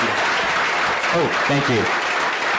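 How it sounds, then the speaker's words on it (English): An audience at a Plantation, Florida city council meeting claps for a group of kids, a steady dense wash of applause running throughout while a nearby voice speaks a few brief words over it. "Can you give those kids another round of applause?"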